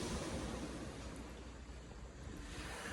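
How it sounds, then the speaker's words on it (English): Steady broadband wash of waves on the shore of Lake Ontario, continuous and fairly even with a touch of wind, no voices. "just enjoy the sound of the waves"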